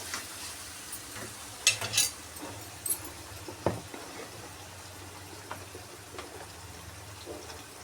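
Ginger garlic paste frying in a spoonful of oil for chicken curry gives a low, steady sizzle, with scraping and stirring clicks from a spoon in the pan and faint birdsong in the background.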